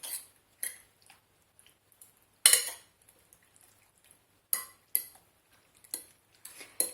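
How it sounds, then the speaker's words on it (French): A spoon scrapes and knocks against a bowl while sliced mushrooms are stirred into an egg and mascarpone mixture for a tart, giving sparse, sharp clinks and short scrapes with quiet gaps between them. "je vais donc bien mélanger le tout"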